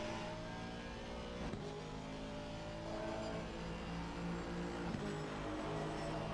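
In a racing video game at Silverstone, a race car engine revs hard and accelerates out of Luffield onto Woodcote, a loud, continuous rising whine with brief gear-change dips.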